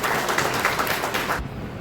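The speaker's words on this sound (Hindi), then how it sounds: "एक बार फिर से जोर की ताली बजाएं।" Applause from the congregation at a Good Friday service in a Methodist church in Saharanpur, a dense patter of many hands clapping steadily for over a second before cutting off abruptly.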